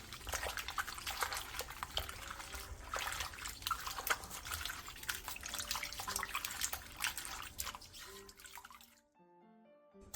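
Bellflower roots (doraji) are rinsed and scrubbed in water, giving close splashing, dripping and rubbing sounds that rise and fall irregularly before cutting to near silence at the end.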